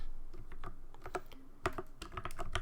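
Quick, irregular tapping of keys on a computer keyboard, close and clear with no voices, as an equation is typed out.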